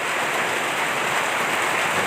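Steady, dense hiss of rainfall pattering evenly, constant and close, with no other sounds.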